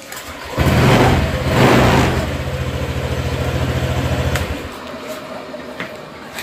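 A Honda Vario 150 scooter engine, just repaired after failing to start, runs close by with a rising rev, a second surge, then a steady idle that drops off near the end.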